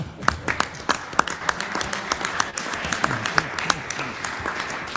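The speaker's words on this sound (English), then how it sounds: "Please give him a round of applause." Applause in a state legislative chamber during a Senate session, a modest scattering of individual claps, sharp and distinct rather than a dense roar, heard at a moderate distance with faint murmuring underneath.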